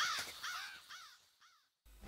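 Crows cawing in an audio drama, a series of four or five harsh descending caws from a bird or two, fairly close, fading slightly toward the end with a brief silence before a low rumble returns.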